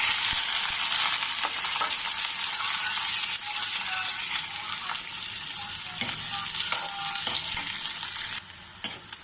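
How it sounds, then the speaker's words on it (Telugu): Onion and green chillies fry in hot oil in a pan for a bottle gourd and chana dal curry, a dense continuous sizzle with occasional spatula scrapes and clicks, close and steady, no one speaking. "ఫస్ట్ ఈ ఆనియన్ పచ్చిమిర్చి వేసుకుందాం."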